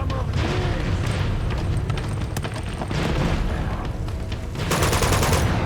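Grenade blasts and gunfire in the video game Uncharted 2, a dense, loud stretch of booming explosions and crackling shots with a heavy burst near the end, while a person talks over it.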